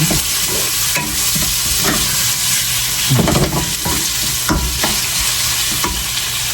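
Chicken is stirred in a pot of broth while cooking pancit, with a steady bubbling sizzle and repeated scraping strokes of the spoon, loud and close, with no one speaking.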